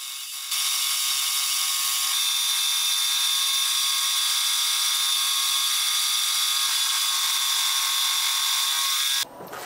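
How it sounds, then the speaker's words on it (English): A 1 5/8 inch face mill cuts across a rusty chunk of rebar, giving a steady, loud high-pitched whine with a bright tonal ring that holds unbroken for about nine seconds before cutting off abruptly. "This 1 5/8 face mill works like a charm"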